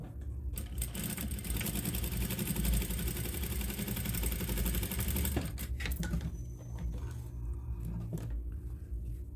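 A sewing machine runs steadily for about five seconds, stitching old denim jeans fabric into a cushion cover, then stops, leaving a few brief handling clicks and rustles.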